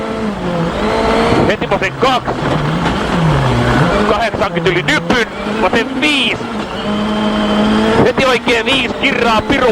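Rally car on snow at the Swedish Rally, engine screaming through rapid revs and gear changes with bursts of wheel spin, loud and close, heard from inside the car while a commentator talks over it.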